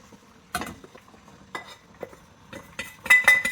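Ground rice batter is scraped and transferred from a grinder into a bowl, giving scattered metallic clinks and scrapes of a spoon against the container in short separate bursts, close and fairly quiet.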